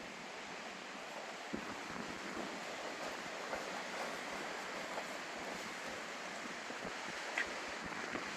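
Strong wind blowing outdoors near the coast at Calais, a steady broadband roar with gusting texture and surf-like rushing, loud and continuous with no talk.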